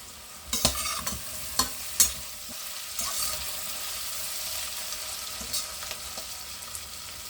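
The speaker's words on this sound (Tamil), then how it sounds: "கறிவேப்பிலை கொஞ்சம் நல்லா முக்கால் பதம் வதங்கட்டும்" Curry leaves and green chilli sautéing in a pan, a continuous soft sizzle of frying in oil broken by a few sharp spatula taps and scrapes early on, close and moderate in level, with no speech.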